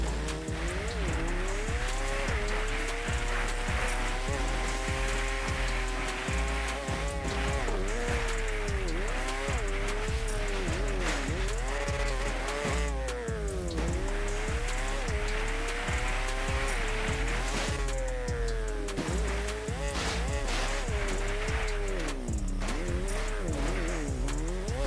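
Dirt bike ridden in GTA Online's Cayo Perico island, a steady engine drone with rising and falling revs as the bike accelerates and eases off, continuous and close with no talk.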